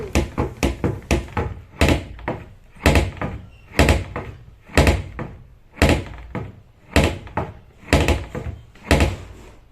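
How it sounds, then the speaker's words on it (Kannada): A dog pulls and rattles a door that has been tied shut with string. Loud wooden thuds and knocks repeat in a steady rhythm about once a second, close by, with no talk. "ಡೋರ್ ತೆಗಿಯಕ್ಕೆ ಬರ್ತಾ ಇಲ್ಲ ಬಿಗ್ಗೆ ದಾರ ಕಟ್ಟಿದೀವಿ ಆದ್ರೂ ಅದನ್ನ ಎಳ್ದು ಎಳ್ದು ಇಡ್ತಾ ಇದ್ದಾನೆ"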